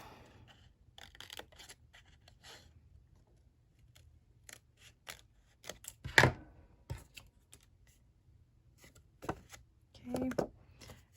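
Scissors snip through paper around a hexagon piece in a quiet room, a string of short crisp cuts with pauses and a louder clustered burst midway and near the end.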